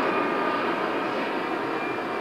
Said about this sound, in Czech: natočím vám letadlo